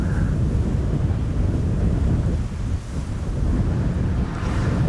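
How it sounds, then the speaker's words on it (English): Strong wind gusting at Amsterdam Schiphol airport, a loud, steady roar buffeting the microphone throughout, with a brief lull midway before building again. "So the wind isn't slowing down yet."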